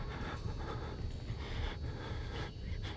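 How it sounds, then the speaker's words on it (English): Heavy, ragged breathing of the player character in the horror game Outlast, a steady near panting under low rumble and faint noise, with no talk. "If my dude could stop breathing for a couple seconds."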